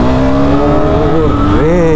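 A brand-new KTM motorcycle with a short underbelly exhaust idles loudly up close in a rough, throbbing drone that rises in pitch as the throttle is blipped near the end.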